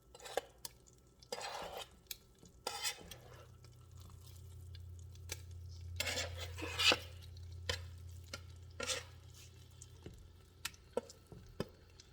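Beef for stroganoff browns in a pot over melted fat, a low steady sizzle running under intermittent stirring scrapes and clinks of a utensil against the pot, fairly close and moderate in level with no talking.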